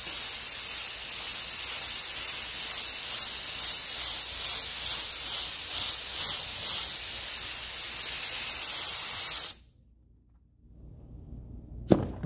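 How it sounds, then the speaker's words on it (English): Upholstery spray glue hisses steadily onto seat-insert material in a car upholstery workshop, a loud continuous spray lasting most of the clip before cutting off abruptly, followed by quiet room sound and a small knock at the end. "the other way to do it is to spray the glue on the material side first"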